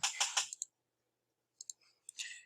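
A computer mouse clicks quietly and close by: a quick cluster of sharp clicks, then silence, then a few more isolated clicks.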